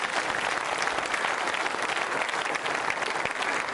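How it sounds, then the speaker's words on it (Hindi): Audience at a quiz show for trainee RAS and RPS state service officers applauding, a steady, dense round of clapping from a large crowd that holds at an even level throughout without speech. "मेरे लिए भी तालियां बजा लो रे।"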